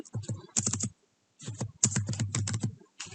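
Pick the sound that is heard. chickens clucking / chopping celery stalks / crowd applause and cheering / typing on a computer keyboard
typing on a computer keyboard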